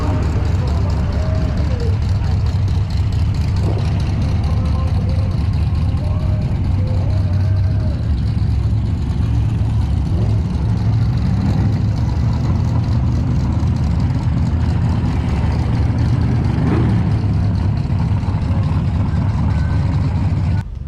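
A Chevy 305 V8 in an old work truck with an SM465 four-speed idles loudly up close as it rolls to the drag strip line, a steady low throbbing rumble under continuous cabin noise.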